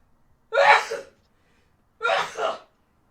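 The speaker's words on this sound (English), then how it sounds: "I'm gonna sneeze, here we go." Two close, loud sneezes sound about one and a half seconds apart, each a sharp burst that fades, with silence around them.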